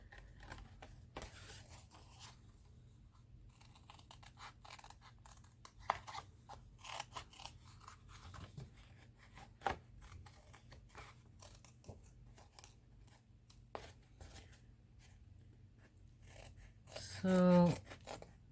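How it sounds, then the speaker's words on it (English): Scissors snipping through thick 240-gram watercolor paper, a series of sharp crunchy cuts spread irregularly across the stretch, close and fairly quiet, with a brief louder rustle near the end. "This is a little bit hard to cut because it's very thick watercolor paper."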